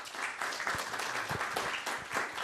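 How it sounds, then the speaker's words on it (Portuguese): An audience at an innovation morning event applauds a presenter with a burst of dense, continuous hand clapping at moderate distance. "Peço uma salva de palmas."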